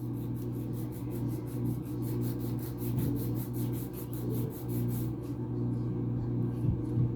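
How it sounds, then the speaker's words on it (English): A nail file rasps rapidly over acrylic toenails in quick, rhythmic back-and-forth strokes, close and fairly faint, with a steady background hum. "so you're not spending all that time filing and filing and filing"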